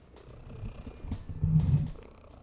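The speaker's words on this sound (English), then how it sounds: "that is some loud purring" A cat purrs loudly and close, a low rumbling purr that swells in the middle and fades again, with faint room noise around it.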